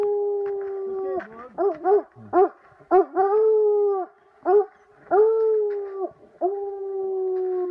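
Hunting dogs loose for about twenty minutes, out after a mountain lion in Idaho hills, baying and howling in drawn-out, wavering cries broken by short yips, several voices overlapping at close to middle distance, with no talk.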